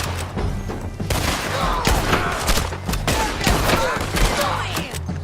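Dense gunfire from a Red Dead Redemption 2 shootout: rapid overlapping rifle and pistol shots with booming impacts, loud and continuous throughout, with occasional shouting mixed in.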